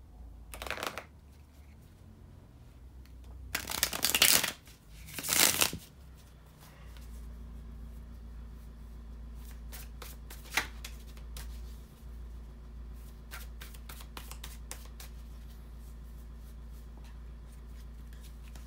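Tarot cards are shuffled in several crisp riffling bursts early on, followed by quieter scattered taps and handling sounds against a low steady hum.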